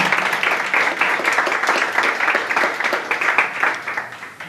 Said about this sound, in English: I just want people to applaud.